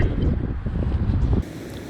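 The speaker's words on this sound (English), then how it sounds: "It's too windy for it. Shame, but yeah, much too windy." Strong wind roars and buffets the microphone in heavy low rumbles, then eases slightly toward the end.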